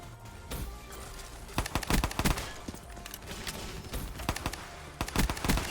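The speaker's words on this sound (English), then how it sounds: "So you can literally shoot this thing as fast as you can pull your trigger finger." M1911 pistol fired rapidly in a video game, a quick string of sharp, close gunshots in irregular bursts, some spaced and some clustered, over low game background noise.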